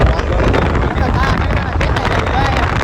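Strong cold wind near Dwarka buffets the microphone with a constant loud rumble and roar, steady throughout.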